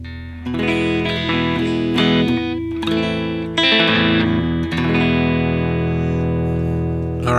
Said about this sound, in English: And here is what a Strat model sounds on that.